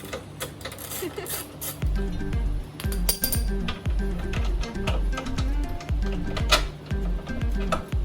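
Metallic clicks and ratcheting taps ring out close by as the last bolt comes off the front support of a BMW M240i, a rapid uneven series of sharp hits with brief pauses.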